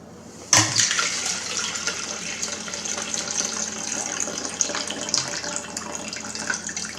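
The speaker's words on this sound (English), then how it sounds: "Get all the water out of it." Melted ice water gushes out of a Topia 1 gallon thermos still holding ice after a seven-day ice retention test, a sudden close splashing pour that starts abruptly and keeps running steadily.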